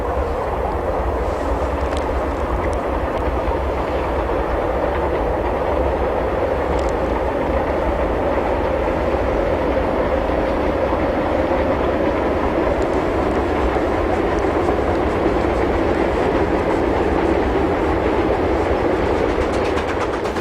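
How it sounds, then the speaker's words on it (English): A Chinese QJ steam locomotive hauls its train up a grade, a steady, continuous loud rumble and roar from near and far with no clear break, and no voices. "another train begins its climb in the westbound direction before turning back on itself to head east"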